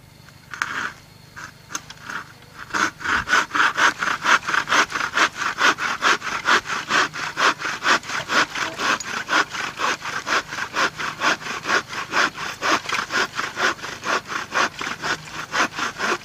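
A saw cuts into wood to open up a feral bee colony's cavity, its strokes steady and rhythmic, close and loud, running continuously after a short quiet start.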